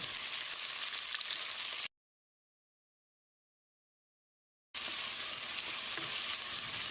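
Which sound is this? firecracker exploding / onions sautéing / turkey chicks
onions sautéing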